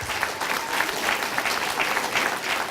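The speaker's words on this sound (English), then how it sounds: "You want to get rid of more tests, you got to clap a little louder than that." An audience at a Virginia announcement event claps steadily and loudly, a dense, continuous wash of many hands with a few cheers, no speech over it.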